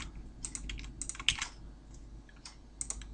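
Quick bursts of computer keyboard typing while entering C# code for a number-guessing game, close and fairly quiet, with irregular clusters of keystrokes and short pauses.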